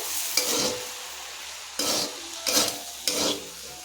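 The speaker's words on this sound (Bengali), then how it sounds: "সুজিটা দিয়েও একবার নাড়াচাড়া করে নেব আমি যাতে সব সবজিগুলোর সাথে সুজিটা ভালো করে মিশে যায়" Semolina and vegetables get stirred in a pan, giving a soft frying sizzle broken by four or five scraping spoon strokes at uneven intervals. The sound is close but fairly quiet, and no one speaks.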